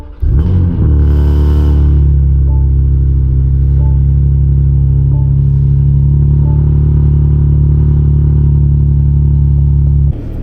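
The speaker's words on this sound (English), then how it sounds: "this car is violently loud, which you'll see in a moment" A 2024 BMW M2 at night with its exhaust valves open gives a loud, steady low engine drone that holds for about ten seconds with no talking.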